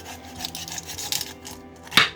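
A knife cuts through a whole raw chicken to butterfly it, giving soft rasping and crunching strokes close up, with a sharper crack of bone near the end. No one speaks.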